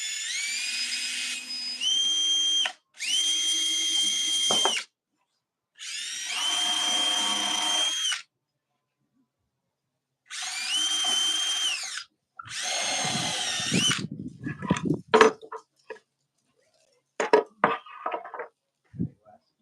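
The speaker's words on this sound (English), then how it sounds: "make sure you're drilling straight down so the screws go into the other wood" A power drill drives screws into wood while a small wooden box is assembled, sounding as several separate whirring bursts of a few seconds each with short pauses, close and clear, ending in quicker, choppier spurts.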